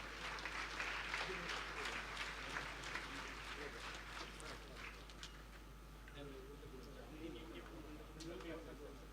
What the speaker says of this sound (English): A huge applause, please.